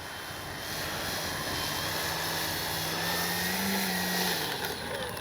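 An E-flite SNJ-5 Texan RC model airplane powers up for takeoff and flight, its motor giving a steady, fairly faint whine with a tone that slowly rises over light wind noise outdoors.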